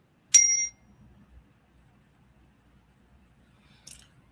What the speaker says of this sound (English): Just going to do a little chime here to clear the energy.